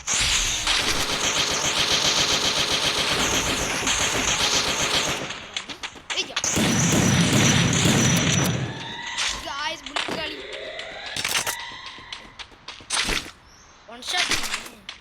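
MP40 submachine gun fire in a video game, long rapid automatic bursts, loud and close, then scattered shorter bursts and single shots with game sounds in between, while someone talks excitedly at times.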